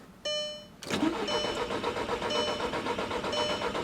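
A car with a newly installed fuel pump cranks over and over after a short chime, its starter churning in a steady, loud rhythm that never catches into a clean idle.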